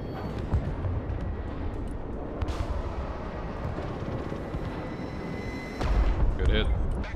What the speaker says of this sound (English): Let's hit him with the bombs.